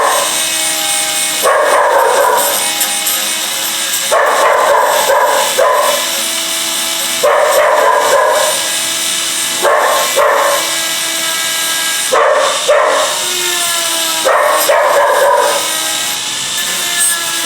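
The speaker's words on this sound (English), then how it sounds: "Guard dog." A guard dog in a workshop barks in loud, repeated bursts of several barks each, spaced every couple of seconds, over a steady background hum.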